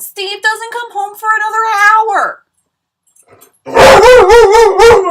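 Dogs at home bark and yelp in a loud close burst, a stretch of high whining barks, a brief pause, then a further volley of sharp overlapping barks.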